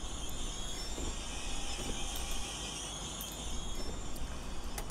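A New Jersey Transit train rolls along in Train Simulator 2017 with a steady rumble of wheels on rail, faint squeals and a few short metallic clicks over the continuous motion.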